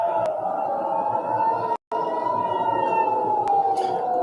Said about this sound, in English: Dramatic scenes playing out across the skies tonight as those air raid sirens sounded out.